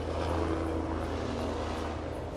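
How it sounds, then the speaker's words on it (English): A helicopter passes overhead outdoors, its steady whirring drone and low rotor throb holding loud and constant throughout. "We got a helicopter coming through."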